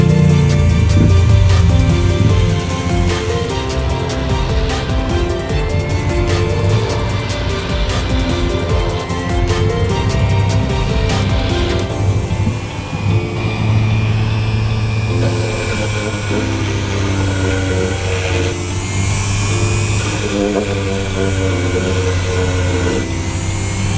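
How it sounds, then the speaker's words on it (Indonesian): A Bosch GEX 125-1 AE 250W random orbit sander runs continuously with a loud, close, steady motor whir and a rough grinding edge that shifts slightly in pitch, with no voices. "Okey, mari kita uji lari mesin ni, kita tengok alat ni apa keupayaan dia sebenar."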